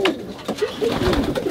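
Pigeons cooing at home around a kiddie pool bath, several soft throaty coos repeating close by at an uneven rhythm, with faint background rustle and no clear talk.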